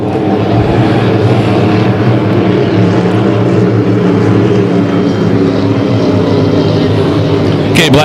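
Hydro 350 hydroplane racing boat engines droning loudly and steadily at a race in Syracuse, a continuous dense roar with no break throughout.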